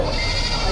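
A goat bleats close by at a cattle, goat and carabao market in Padre Garcia, Batangas, one brief call heard over a busy, noisy background.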